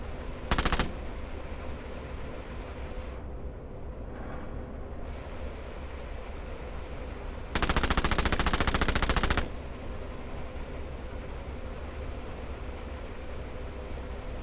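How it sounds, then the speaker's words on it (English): A Panzer IV tank's roof-mounted machine gun fires in a video game, two rapid bursts over steady engine rumble: a short one early and a longer, louder rattle lasting about two seconds later on. "Not sure if the machine gun on the top of a Panzer IV would have been remote controlled."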